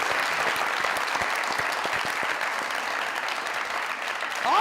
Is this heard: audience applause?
yes